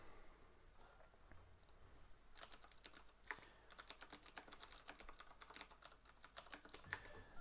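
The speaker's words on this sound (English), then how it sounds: "this is my keyboard" Rapid clicking keystrokes on a computer keyboard, quiet and close, with bursts of fast typing and brief pauses.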